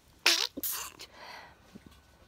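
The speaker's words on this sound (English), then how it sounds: "What I've noticed with my sneezes" A single loud, close human sneeze with a sharp burst and a short trailing breath, followed by faint quieter sounds and near-silence.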